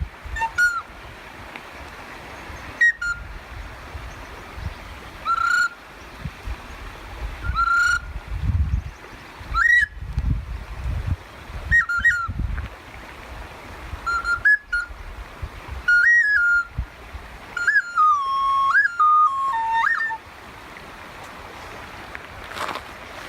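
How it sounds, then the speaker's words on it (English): Clear whistled bird calls and chirps ring out repeatedly over a steady background wash of surf in Sabino Canyon, rising and falling in short phrases. "You hear the birds playing with you?"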